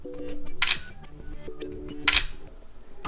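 Two sharp camera-shutter clicks about a second and a half apart from an OPPO A54s phone, each a short bright snap over faint background noise, with no voices.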